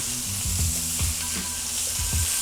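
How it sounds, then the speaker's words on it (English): Apples and onions sizzle in a hot pan, a steady bright frying hiss with a few soft low thumps of movement, close and continuous, no voices. "let's go ahead and add in our onions and our apples so they can"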